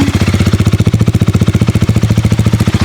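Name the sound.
motorcycle engine idling, KTM Duke 390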